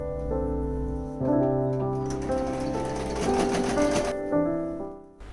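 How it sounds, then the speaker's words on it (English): Sewing machine stitching the closed end of a cushion filler made from old stuffed toys, a rapid mechanical whirr with shifting speed, heard alone and close, over faint tonal music. "The filler is almost ready. I just need to stitch the end."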